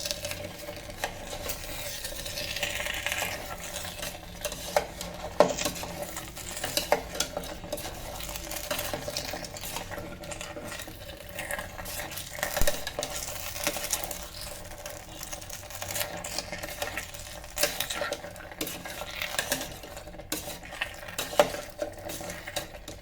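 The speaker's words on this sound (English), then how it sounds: "Gently mix it." Paneer cubes are stirred and fried inside an electric kettle, with steady scraping and clinking of a utensil against the metal pot over a soft sizzle for a long stretch without talking.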